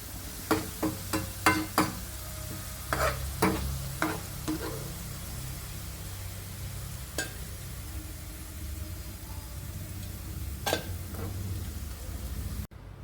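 Onions frying in a pan give a steady low sizzle, punctuated by a series of sharp scraping and tapping strokes of a spoon against the pan, clustered early and then sparser, with no voices.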